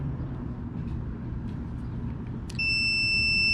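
A multimeter set to continuity gives a clear, sustained high electronic beep that starts abruptly near the end, over a low background hum.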